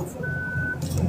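A single steady electronic beep, like a truck's reversing alarm, sounds for about half a second over low rumbling vehicle noise, with faint voices in the background.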